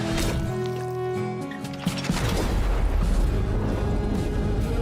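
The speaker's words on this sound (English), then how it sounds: "Explosion." Loud, sustained rumbling explosion in a Minecraft-style video game, a dense roar swelling after a couple of seconds and filling the clip with low booming noise.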